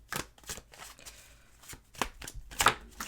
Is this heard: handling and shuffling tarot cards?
yes